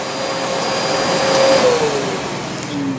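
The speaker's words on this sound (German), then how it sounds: "du störst mit deinem Staubsauger im Video" A vacuum cleaner runs nearby with a loud, steady whining drone whose pitch slides gently downward, continuous and alone without speech.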